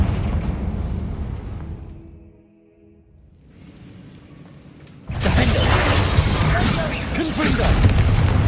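A Confringo fire-blast spell explodes in Hogwarts Legacy, first a fading rumble that drops almost to silence, then a sudden loud booming burst with crackling debris that stays dense and loud. A voice shouts briefly.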